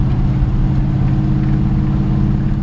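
A 1953 Ford F-100 pickup truck drives along, its engine and transmission giving a loud, steady low drone with no break in the sound.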